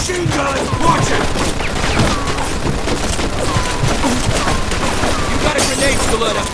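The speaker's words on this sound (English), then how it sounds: "Looks like we found the machine gun!" Rapid machine gun bursts in a Mafia 2 shootout, loud and continuous and mixed with other gunfire and impacts, with shouted voices over the top.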